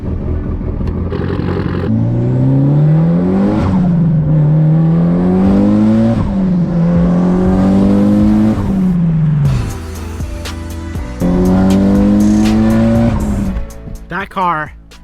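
A Mitsubishi Lancer Evolution X engine revs hard through repeated rising gear pulls, loud and close, with a tire squeal and shifting between surges.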